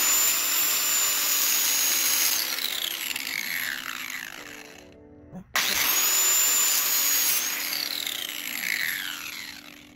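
A grinder fitted with a sharpening wheel cuts through a trailer brake cable lock, a loud, close, sustained high whine with grinding grit that briefly cuts out midway and then resumes at full speed.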